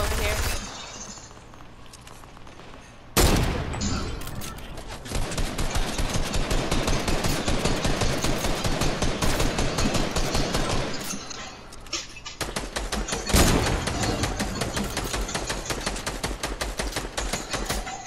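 Rapid automatic gunfire from the Fortnite battle royale game, dense bursts filling most of the clip with a brief lull near the start, loud and close, with players talking over it.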